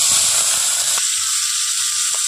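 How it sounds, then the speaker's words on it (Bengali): Shrimp rubbed with turmeric and salt sizzle in hot oil in a village-style kitchen, a bright crackling hiss that starts loud, then settles into a steady fizz with occasional pops. "এখন চিংড়ি মাছটা ভেজে নেব"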